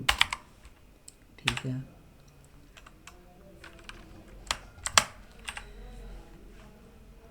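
Keys clatter on a computer keyboard in short bursts at the start, middle and near the end, with quiet gaps between. A brief spoken word comes in around them.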